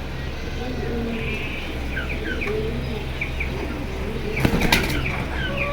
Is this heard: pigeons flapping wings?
yes